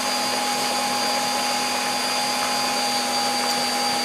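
An electric stand mixer beats a large batch of Swiss meringue buttercream with a constant, close, high-pitched motor whine and a steady whirring hum that runs without a break and with no talk.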